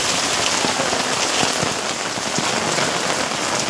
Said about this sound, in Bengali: যে শুরু হয়েছে বৃষ্টি সেটা অনবরত হয়ে চলেছে।